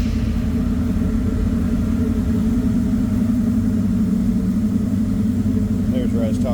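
A 1967 Chevrolet C10 Stepside pickup with a 383 stroker engine runs with a loud, deep, continuous rumble that holds steady throughout, close by.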